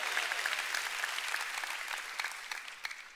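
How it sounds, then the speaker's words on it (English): A church congregation applauds during a sermon: a broad, even wash of clapping from a large crowd, fairly faint and distant, holding steady before tapering slightly at the end. "Let's give God a big clap."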